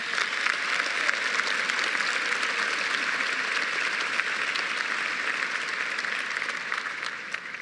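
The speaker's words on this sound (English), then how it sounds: "let's give everybody in this room a big round of applause" Sustained applause from a large crowd at a high school graduation, dense and even clapping that continues steadily throughout.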